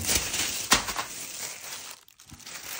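Segmented insect mesh grille for a bumper being unpacked from a cardboard box, with close crinkling and crumpling of packaging, a sharper rustle partway, then a brief quiet gap before more handling.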